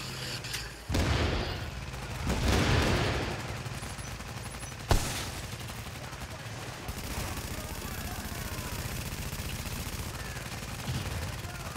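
Deployed automatic turret firing in the shooter game The Division: bursts of gunfire and booms, loud early then settling into a quieter, continuous crackle of shots amid battle noise, with a voice talking over it.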